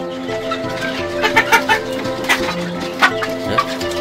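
Hens in a poultry coop cluck repeatedly in short irregular bursts over a steady background of fowl noise, close and clear with no talking.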